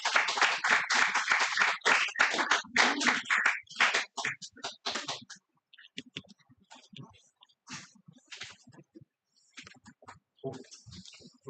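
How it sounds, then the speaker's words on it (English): Audience at a guest lecture clapping to welcome the lecturer, a burst of applause that thins to scattered individual claps and fades out. "Please give a round of applause."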